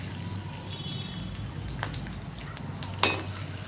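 Cumin seeds and green chillies fry in oil left over from roasting peanuts, giving a steady soft sizzle with scattered small pops and one sharper crackle near the end, with no talking.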